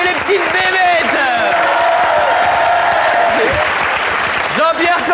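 A television studio audience applauds and cheers for a singer in a loud, continuous wash of clapping, while voices carry on over it.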